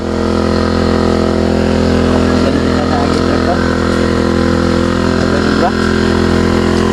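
A steady engine drones close by at a constant pitch in a rice field, with people talking over it throughout.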